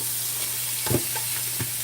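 Holy Trinity vegetables hit avocado oil in a hot skillet, giving a steady soft sizzle with a few brief stirring clatters, close and moderately quiet, no talking.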